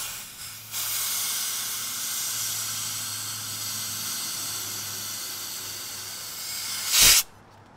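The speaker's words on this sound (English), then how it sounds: "So we're purging all the air out." Steady, close air hiss from refrigerant recovery hoses being purged at the recovery tank, running continuously for several seconds before a brief louder burst as it cuts off.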